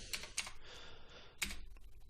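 Commands typed on a computer keyboard: a few crisp, separate key taps with brief pauses, close and quiet, with no talking.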